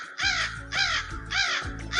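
Crows caw loudly and close by as an audiobook sound effect, three harsh calls in an even rhythm, each a rough drawn-out squawk with short gaps between.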